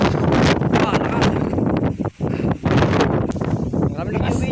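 Strong wind roars with rain in a storm, a dense broadband rush that is loud and continuous with a short lull midway, while people talk over it.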